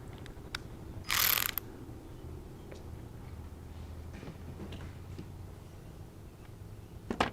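Socket wrench ratcheting during repair work on an Audi, a run of quick clicks with one louder, dense burst partway through, close and alone with no talking.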